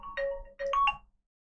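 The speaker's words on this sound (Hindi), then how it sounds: "रेलवे जेई वाला बच्चा का फोन आ गया यार" A mobile phone's ringtone plays for an incoming call, a short melodic electronic phrase of several tones, close and clear, ending abruptly with no one talking over it.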